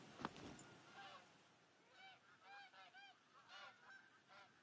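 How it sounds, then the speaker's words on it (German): A goose honks repeatedly in theHunter: Call of the Wild, a series of nasal calls in irregular bursts, quiet and somewhat distant over a faint outdoor background. "wenn wir jetzt die ganze Zeit diese scheiß Gans hören"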